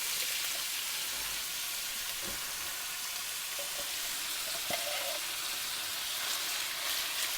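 Chili beans in spicy tomato juice sizzle in a skillet with meat, giving a steady, fairly quiet broadband hiss with a few faint pops and clicks throughout.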